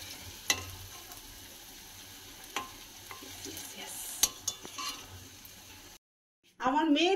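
Taler bora, palm fruit fritters, fry in hot oil with a steady close sizzle and crackle, broken by a few sharp clinks of a spatula turning them. The sizzle cuts off briefly, then a voice begins to speak.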